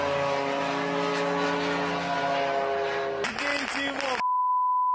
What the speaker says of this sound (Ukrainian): Грозою російських нафтобаз став ось цей український камікадзе «Лютий».